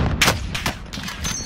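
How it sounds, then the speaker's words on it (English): Sniper gunfire in Call of Duty Warzone rings out as a rapid run of sharp, loud cracks in quick succession over a short burst, close and dominant. "they're shooting at us. Watch out. Oh, he has a sniper."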